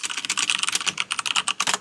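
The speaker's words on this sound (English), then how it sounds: "I'm rocking a Corsair K95 Platinum keyboard. It's got Cherry MX Brown switches" Fast, steady typing on a Corsair K95 Platinum mechanical keyboard with Cherry MX Brown switches and some custom white keycaps, a close, dense run of crisp keystrokes with no talk.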